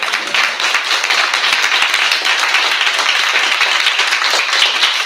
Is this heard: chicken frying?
no